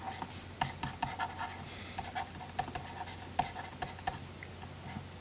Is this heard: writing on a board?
yes